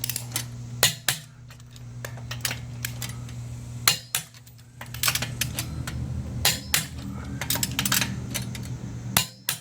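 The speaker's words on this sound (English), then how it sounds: "we're going to torque these to 85 foot-pounds. Kind of going in a star pattern." Torque wrench tightening the lug nuts on a 2012 Nissan Altima to 85 foot-pounds in a star pattern, with repeated crisp metallic clicks and clanks at uneven intervals over a low steady hum.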